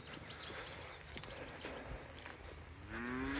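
A single cow lets out a long, rising moo near the end at a farm's cattle yards, heard over steady outdoor wind noise and faint rustling.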